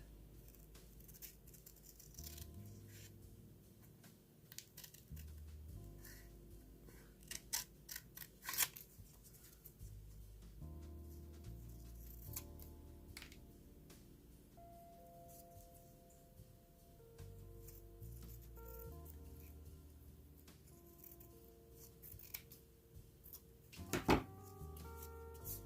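Scissors snip through cardstock while trimming paper lace-and-scrap paperclip embellishments at a craft table, a series of short close cuts and handling rustles, with occasional light knocks and paper shuffling between them.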